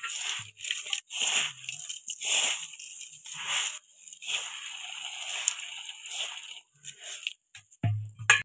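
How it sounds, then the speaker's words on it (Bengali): Crunchy spiced puffed rice, masala muri, being eaten by family members, a string of close, dry bites and crunches in irregular bursts separated by short quiet gaps. "তো এই যে আমার ভাই মুড়ি খাচ্ছে, আর এই যে আমার বাবা মুড়ি খাচ্ছে, মশলা মুড়ি।"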